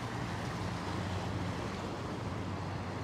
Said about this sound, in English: Isn't the sound of the water calming?